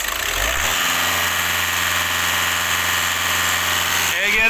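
A vehicle engine with an EGR fault that pushes antifreeze out is held at full throttle, giving a loud, steady, close droning roar that shifts slightly near the end.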